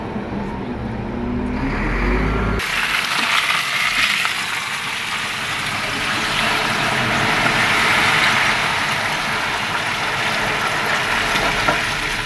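A work truck runs loudly with a steady, broad engine rumble and road noise. A short, quieter stretch comes first, then the engine noise holds for the rest.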